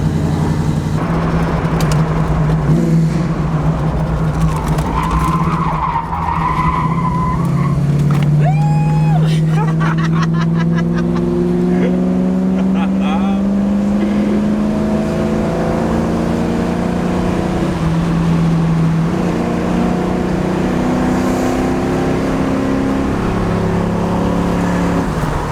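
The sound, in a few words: 1981 Chevrolet Camaro with 350 crate engine smoking its tires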